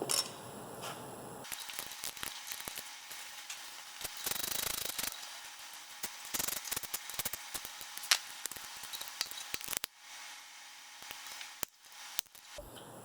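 A torque wrench tightens connecting rod bolts on a VW 1.8T 20-valve engine in two stages, with close, irregular ratcheting clicks and scraping metal contacts, some louder clacks mixed in, and no talk.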